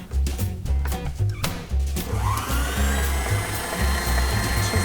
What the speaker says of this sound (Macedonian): си правиме крем од белки, односно беланец. Сега за среќа си го имам ја братов миксер.